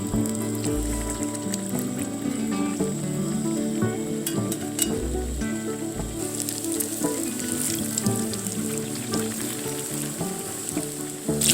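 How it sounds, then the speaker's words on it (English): Dough-coated jalapeño poppers fry in hot oil in a pan, giving a continuous crackling sizzle with small pops, steady and close throughout with no talking. "I'm just gonna add them to a pan with some hot oil and fry them up"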